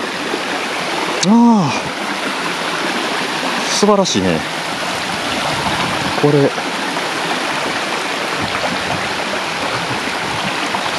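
A mountain river runs upstream in a park at Arima Onsen, giving a steady, fairly loud rush of flowing water as someone speaks briefly over it a few times.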